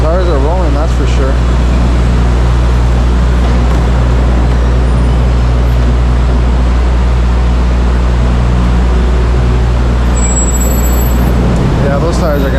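Heavy truck and trailer rumbling through an underground tunnel with its tires rolling, a loud steady low engine and road drone filling the enclosed space, with brief voices underneath.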